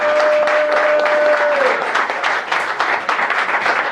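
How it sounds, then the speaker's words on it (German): A crowd applauds in a dense, steady wave of clapping, with a brief held tone at the start. "einen ganz herzlichen Applaus"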